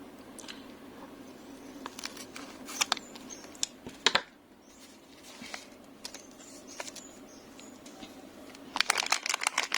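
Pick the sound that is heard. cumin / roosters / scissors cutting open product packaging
scissors cutting open product packaging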